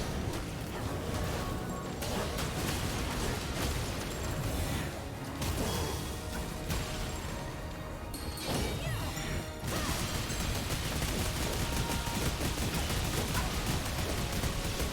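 Explosions and combat in the Astral Chain video game, a dense loud barrage of crashes, blasts and whooshes that keeps going throughout.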